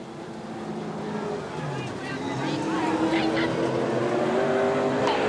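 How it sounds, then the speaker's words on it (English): Race cars roar around Eugene Speedway, a distant, swelling engine drone with faint tire noise, heard far off and growing louder toward the end. "Whoa, Butch Brown spins it, but he hangs on to it."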